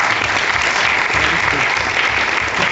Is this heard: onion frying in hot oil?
no